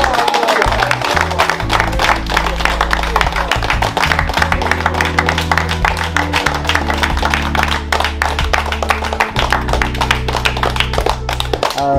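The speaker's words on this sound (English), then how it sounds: "one big round of applause for all the donors" Audience applause for donors at a community gathering in Trenchtown, Kingston, clapping steadily throughout over loud, continuous music with a heavy bass line and possible voices mixed in.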